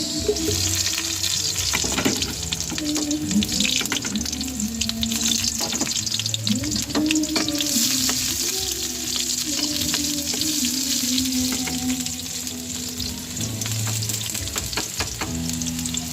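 Garlic and onion sauté in hot cooking oil for a Filipino balbacoa dish, giving a steady close sizzle and frying hiss with light stirring and clinks throughout, with no talk over it.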